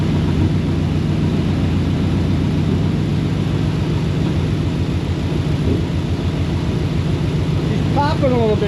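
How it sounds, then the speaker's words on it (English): A carbureted car engine converted to Ghost EFI runs loudly and close by with a steady low rumble and rapid pulsing, a bit rich and popping now and then. A voice briefly speaks near the end. "Popping a little bit, but she was doing that with the carburetor too"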